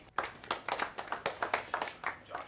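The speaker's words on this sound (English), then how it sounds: "Please clap for him." An audience claps at a start-up accelerator event, with a steady run of about a dozen crisp claps close by and no talk over them.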